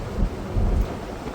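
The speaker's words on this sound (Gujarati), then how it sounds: "વરસાદ આવતા હે આંધ્રામાં" Deep rolling thunder rumbles in two swells over a steady wash of rain during a monsoon downpour, close and fairly loud with no voices.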